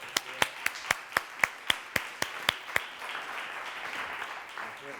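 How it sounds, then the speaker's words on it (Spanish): Audience at a restaurant talent-management panel discussion clapping in a steady unison beat, about eleven sharp, evenly spaced claps, then dissolving into a soft, diffuse patter of scattered applause. "Vamos a darle un gran aplauso"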